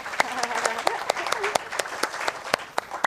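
Audience applause welcoming students at a Korean language department orientation for an online university: sharp, scattered claps in a room, moderately loud and close, with a voice speaking over them.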